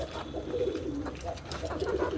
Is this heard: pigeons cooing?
yes